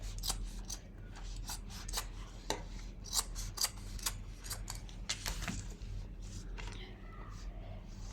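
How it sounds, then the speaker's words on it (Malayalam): Scissors snip through a plastic rice packet in a quick series of sharp, crisp close-up cuts, with soft crinkling of the plastic between snips. "ഇതൊക്കെ നമുക്ക് കട്ട് ചെയ്ത് കളയണം"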